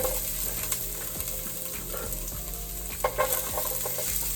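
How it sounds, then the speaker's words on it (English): Onions and garlic frying in oil in a hot pan, with a steady, dense sizzle throughout and occasional louder stirring scrapes, fairly close and without any voices. "I'm going to start with grilling my onions and garlic in the pan first"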